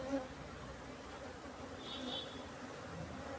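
Honey bees buzz steadily around a hive on a bee farm in Kumily, a continuous close, even drone of many insects with no talking.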